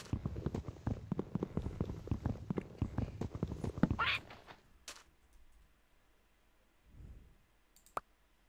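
Rapid, evenly spaced horse hoofbeats clip-clop in Minecraft gameplay for about four seconds, then stop, leaving a few isolated game clicks and a soft thud.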